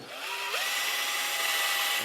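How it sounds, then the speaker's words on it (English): A power drill whirs steadily and close, drilling out holes in a guitar, its pitch rising as the bit spins up and then holding a constant high whine. "those guys are a little too big to go in there, so I got to drill them out"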